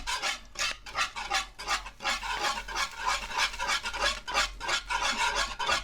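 Rhythmic scraping strokes of a spoon stirring vanilla extract into banana pudding in a pot, a repeated rasping back-and-forth sound, close and steady, with no voices.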